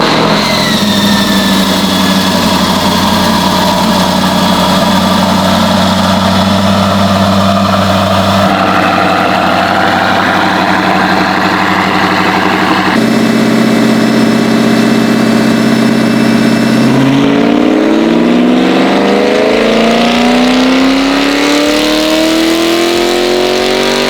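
A supercharged C8 Corvette, built to about 700 horsepower, runs hard on a chassis dyno, its engine droning loud and steady with gear-change steps and a rising rev sweep near the end, and no voices.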